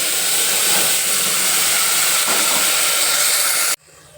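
Palak (spinach) paste fries in hot oil with bay leaf, cardamom and curry leaves, giving a loud, close, continuous sizzling hiss that cuts off abruptly just before the end.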